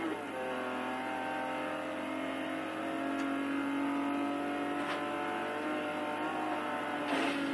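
A very fast car in a video game revs with a sustained, whining engine tone whose harmonics climb and hold, heard alone at moderate volume.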